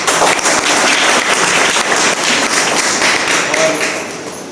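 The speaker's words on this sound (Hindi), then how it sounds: "उनके सम्मान में सब लोग तालियां बजाएं" A crowd at a political party membership rally claps steadily, a dense burst of applause that fills the space and begins to fade toward the end.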